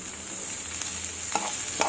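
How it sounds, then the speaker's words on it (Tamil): Chopped cabbage sizzles in a pan with frying onions as a spoon stirs it, with a continuous soft hiss broken by a few sharp scraping strokes. "இப்போது கட் பண்ணி வச்ச கோஸை போட்டுருவோம்."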